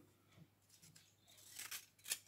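Small scissors cut paper for making paper flowers, giving a few quiet snips and crisp slicing sounds close by, the last ones loudest, with no talking.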